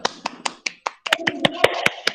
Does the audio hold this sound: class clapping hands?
yes